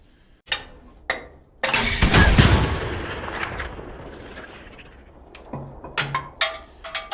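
A Sherman tank's main gun fires at a Tiger in the video game Hell Let Loose. There is a loud, close cannon blast with a long rumbling tail, followed by a few sharper, fainter impacts or shots.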